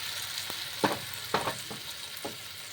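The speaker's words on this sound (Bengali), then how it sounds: "দিয়ে আমি এবার এটা প্যানে ঢেলে দিচ্ছি। ঢালবার সময় একটু ঘুরিয়ে ঢেলে দিতে হবে।" Masala crepe batter cooks in a pan with a soft, continuous sizzle, broken by a handful of sharper crackles and spits as it spreads and sets.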